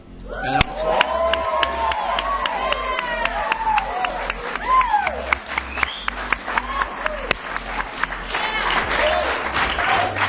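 Live audience applauding and cheering after a country song is performed, a dense steady wash of clapping with scattered whoops, while a voice sings or calls out over it near the start.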